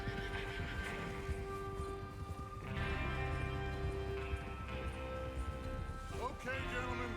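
Horses neigh and whinny in Red Dead Redemption 2, steady and fairly loud over a dense bed of game music and ambience, with a sharper whinny near the end.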